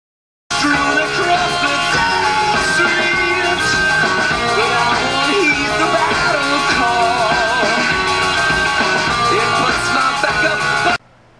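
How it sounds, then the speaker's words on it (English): A 2002 Subaru Legacy's car stereo plays loud music with a singing voice, starting and stopping abruptly and filling the cabin steadily for about ten seconds. "So you can hear the stereo is in good working condition."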